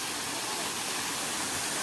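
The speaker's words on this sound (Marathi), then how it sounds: "फायनली धबधब्यावर पोहोचलोय आणि एक्सपेक्टेशनच्या पलीकडचं पाणी आहे" A hidden waterfall roars nearby, a constant, dense rush of falling water filling the short moment without a break.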